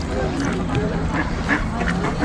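Ducks near the water at Khorfakkan, Sharjah, UAE give several short nasal quacks and honks at moderate distance, mixed with people talking nearby over a steady outdoor background.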